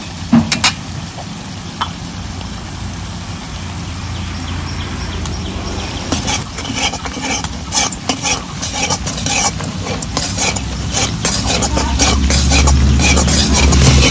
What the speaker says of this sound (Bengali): সর্ষে দিয়েও একটু নাড়াচাড়া করে নিলাম